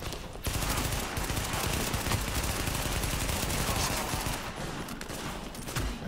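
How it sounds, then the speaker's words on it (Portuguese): Sustained gunfire from The Division fills the scene, with dense, rapid automatic bursts and overlapping shots that run loud and nearly continuous throughout without pause. "Caralho, quem tá me atirando?"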